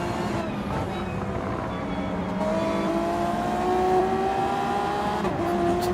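Video game race cars, Supras and an NSX in a GT500 field on Trial Mountain, drone in a dense pack with engines rising in pitch as they accelerate, loud and close throughout.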